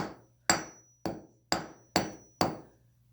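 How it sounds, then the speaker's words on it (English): A hammer strikes a piece of tin six times in a slow, even rhythm, each sharp metallic blow ringing briefly before the next, close and clear with no talking. "So I'm going to hit them with a hammer."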